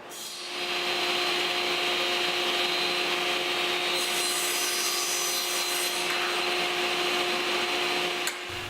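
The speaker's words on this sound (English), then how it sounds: "I cleared the decks and went about to cut these to length" Wooden pieces are sawn to length in a workshop, with a steady, moderately quiet mechanical whir and rasping cut running for several seconds under a constant tonal hum, then easing off near the end.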